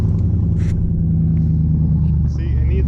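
Subaru Forester with a catless up pipe and muffler delete rumbling loudly at close range, a deep steady exhaust drone throughout, with a person talking over it.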